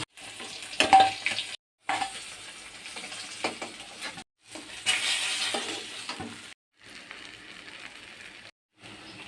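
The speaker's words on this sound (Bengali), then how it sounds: "মাছ ভাজা হয়ে গেছে একদম লাল লাল করে ভেজে এসছি" Katla fish pieces fry in hot oil with a steady crackling sizzle in several bursts, broken by short silent gaps, fairly close and moderately loud.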